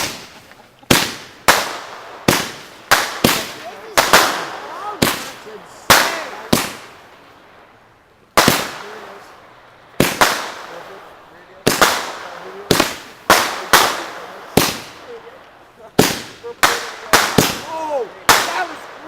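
Fireworks and firecrackers on a May long weekend go off in a long irregular series of sharp loud bangs, some in quick clusters, with crackling tails and occasional voices between blasts.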